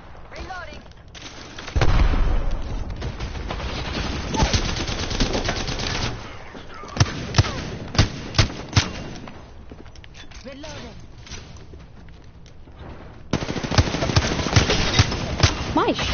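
Video game gunfire: bursts of automatic fire and single loud shots, including a quick cluster of sharp cracks, over a dense battle din, with voices talking throughout.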